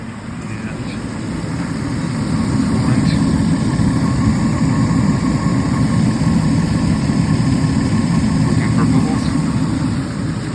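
A Nissan engine idles after a radiator replacement, parked on an incline, giving a loud, steady low rumble that holds unchanged for about ten seconds.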